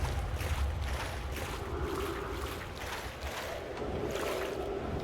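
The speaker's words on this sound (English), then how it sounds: "But the splashing noises are nice, so we can't complain, can we?" Water splashes continuously in the video game Outer Wilds, a rolling, washing churn with soft surges, steady and fairly close, with no voices.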